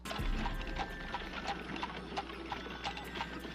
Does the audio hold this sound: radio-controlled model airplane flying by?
no